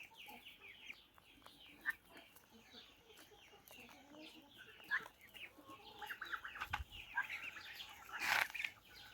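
Large-breed hens in an aviary pen give soft, scattered clucks and short calls, faint and close, with a louder squawk near the end and some rustling between them.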